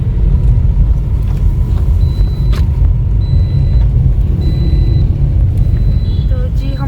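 A car engine rumbles steadily as the car pulls away on a rainy day near a hotel in Fizaghat, Swat, with a few faint squeaks and clicks over the top and no clear speech.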